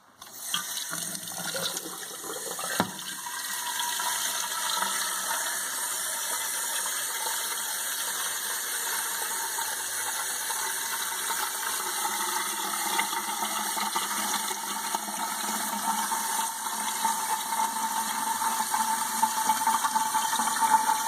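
Water runs steadily from a tap into an ultrasonic humidifier's reservoir at a sink, a constant close hiss and splash that continues without pause.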